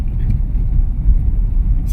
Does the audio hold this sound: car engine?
yes